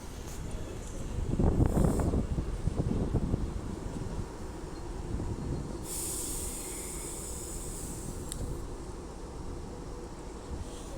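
An Avanti West Coast Class 390 Pendolino pulls into Stockport station with a soft rush and hiss of air, rising briefly early on then settling into a quiet steady rumble, distant and faint, with a high whine appearing later.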